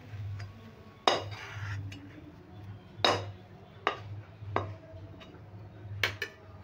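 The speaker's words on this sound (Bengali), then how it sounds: "একটা স্টিলের পাত্রে ঢেলে নিচ্ছি" Chana dal motichur laddu mix being poured and scraped into a steel bowl, with several sharp metallic clanks and scrapes of a utensil against the steel, close and fairly quiet.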